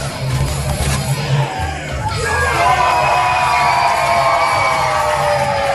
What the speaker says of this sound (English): And the crowd goes wild for the keyboard warrior.